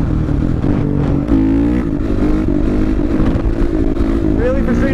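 Supermoto motorcycle engine idling and revving nearby, a loud steady drone with rising and falling pitch as someone talks over it.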